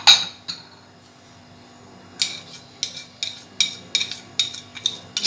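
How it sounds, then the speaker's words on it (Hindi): A knife chops onion on a board for potato cutlets, first one loud cut then, after a pause, a run of about ten sharp, close chops in an uneven rhythm, alone with no talk. "chop onion"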